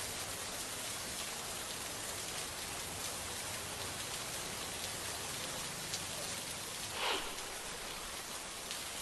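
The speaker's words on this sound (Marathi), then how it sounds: "जोरदार पाऊस सुरू" Heavy monsoon rain pours steadily in Lanja taluka of Ratnagiri district, a dense continuous hiss of downpour with no pauses.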